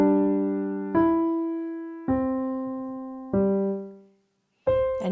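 Piano warm-up pattern played as four sustained, ringing notes struck at steady intervals, the last one decaying into silence before a higher C is struck; close and clear, with no voice.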